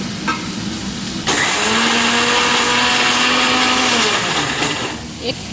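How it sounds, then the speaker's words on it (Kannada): A kitchen mixer grinder blends chilli and garlic, kicking in abruptly with a loud steady whirring hum that holds for several seconds and then winds down. "ಬೆಳ್ಳುಳ್ಳಿನೂ ಕೂಡ ಸೇರಿಸ್ತಾ ಇದ್ದೀನಿ ಒಂದು ಸರಿ ಮಿಕ್ಸಿ ಮಾಡ್ಕೊಳ್ಳೋಣ"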